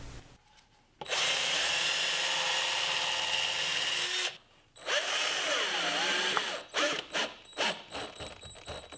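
A power drill drives screws into wood, whirring loudly in two long bursts with a brief pause between, then several short stuttering pulses as the screws seat.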